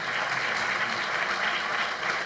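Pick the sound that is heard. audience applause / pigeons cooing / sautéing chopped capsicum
audience applause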